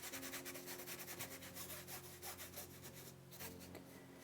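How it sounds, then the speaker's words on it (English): Stiff brush scrubbing acrylic paint onto canvas, a close, steady rhythmic rubbing with repeated back-and-forth strokes that carry on throughout with no talk. "This brush can handle the scrubbing."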